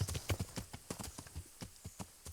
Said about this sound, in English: we'll ride our horse over here